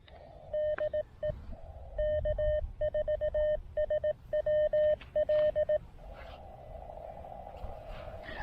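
Morse code CW tones on the 40 meter amateur band, received on a Mountain Topper MTR-3B with an Elecraft AX1 antenna at three watts: a steady single-pitch tone keyed in short and long bursts over faint static, ending in band hiss.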